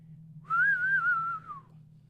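One clear whistled note from a person, close and moderately loud, wavering gently in pitch for about a second over a faint steady hum, then stopping.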